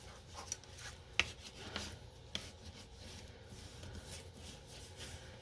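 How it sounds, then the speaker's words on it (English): Tape on card chipboard is burnished down with quiet, close rubbing strokes, a soft continuous scraping broken by a few small taps. "Now you also need to burnish this down."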